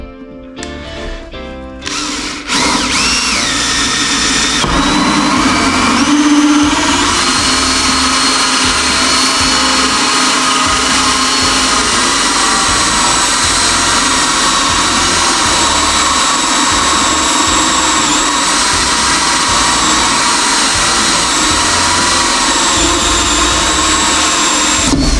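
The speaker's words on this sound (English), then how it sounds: "We're just going to drill it out now." A drill fitted with a 20mm cutter bores a pipe hole through laminate flooring, spinning up after a brief start and then whining steadily and loudly for over twenty seconds, close by with no talking.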